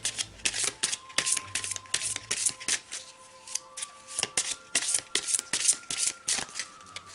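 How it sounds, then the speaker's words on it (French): A deck of oracle cards being shuffled by hand, with repeated crisp riffling bursts in a quick uneven rhythm, close and fairly loud, with no talking. "On va tirer une petite carte."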